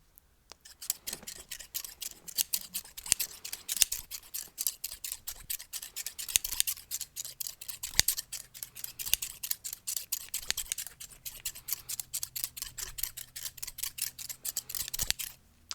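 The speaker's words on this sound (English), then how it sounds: "we can work in the little scissors a little bit here" Rapid, close snipping of scissors cutting hair, dozens of crisp clicks in irregular bursts throughout, with no talking.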